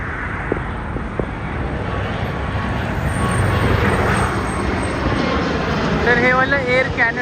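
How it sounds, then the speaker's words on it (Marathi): An airplane moves near an airport runway in Canada, a broad engine roar that swells steadily louder through the second half, with a person talking over it. "आता एक विमान परत एक आलं आहे"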